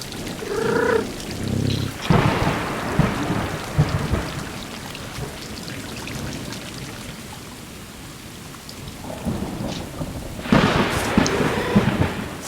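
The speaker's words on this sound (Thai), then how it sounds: "โอ้โหฝนตกหนักเกิน" Heavy rain pours steadily in the video game Stray, with two deep rolls of thunder rumbling through the downpour near the start and again near the end.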